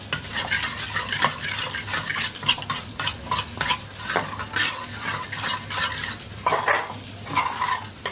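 Raw prawns tossed with salt and turmeric in a bowl, giving continuous wet squelching and scraping strokes with occasional utensil clinks against the bowl, close and moderately loud with no voices.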